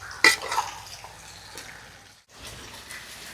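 Biryani being slowly stirred in a pot in a home kitchen: a sharp scrape of the ladle against the pot, then softer scraping strokes, a brief pause and a few more light stirs, close up with no talk.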